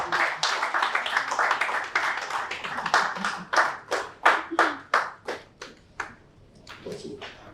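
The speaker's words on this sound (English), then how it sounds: "Please, a round of applause." A conference audience at an AI adoption panel in Nigeria claps in a round of distinct, sharp handclaps that build, then thin out and fade toward the end, heard fairly close with no talking over it.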